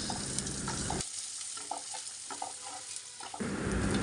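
Garlic frying in hot oil for an amra (hog plum) fish curry: a loud, steady sizzle that drops away for a couple of seconds while stirring clatters, then surges back, with no talking.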